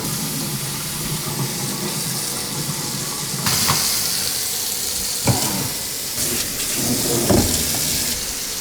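Water runs steadily from a newly installed kitchen faucet into the sink, a close continuous splashing hiss with a few brief clunks and shifts in flow.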